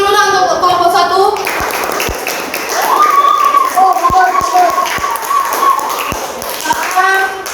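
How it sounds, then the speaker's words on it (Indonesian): A classroom group claps for the first presenting group, a short patter of applause from students mixed with chatter and children's voices, fairly close, with a teacher's voice and sharp taps scattered through. "Beri tepuk tangan dulu lah untuk kelompok 1."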